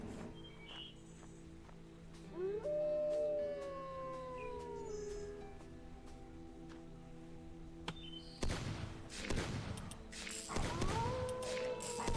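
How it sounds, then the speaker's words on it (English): A dog in a video game lets out a drawn-out, wavering howl, fairly faint over background game ambience, followed later by heavier thumps and noise bursts. "Dog."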